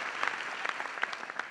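Audience applause in a comedy show hall, dense continuous clapping from many hands at close range, steady throughout a brief burst.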